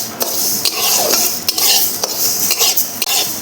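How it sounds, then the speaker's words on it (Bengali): A metal spoon scrapes and clinks rhythmically against a pan as moong dal dry-roasts with bay leaf, cinnamon and cardamom, loud and close over a faint sizzle, with no speech. "এখন আমি এখানে 150 গ্রাম মুগ ডাল নিয়েছি, এটা ভেজে নেব।"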